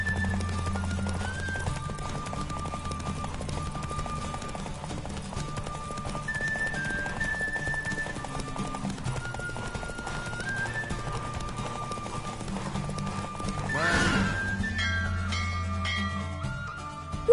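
A horse gallops in a race in the Witcher 3 video game, with steady rapid hoofbeats under game music, and a loud whinny rises briefly near the end before the galloping and music continue.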